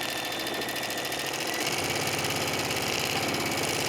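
A sewing machine fitted with a clear view foot stitches a seam joining flying geese quilt blocks, a steady close mechanical whir with rapid rhythmic needle clatter that speeds up slightly partway through.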